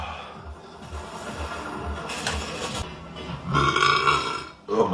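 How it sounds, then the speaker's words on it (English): A young man lets out a long, loud burp in a run of repeated burping, a low rumbling belch that swells near the end and continues with a throaty rasp. "That was a crazy burp,"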